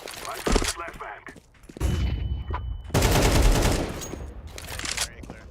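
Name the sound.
flashbang thrown in a video game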